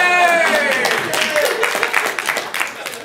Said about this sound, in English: that is the largest round of applause we've had so far today